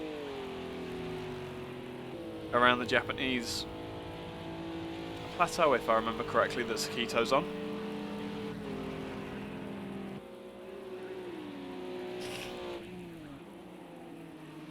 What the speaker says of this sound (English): we still get to hear the roar of these GT3 engines